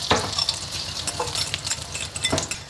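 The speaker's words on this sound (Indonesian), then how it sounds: "Langsung kita goreng telurnya." Four eggs fry in a home kitchen pan with a steady close sizzle and crackle, broken by a few sharp spatula clinks and scrapes against the metal.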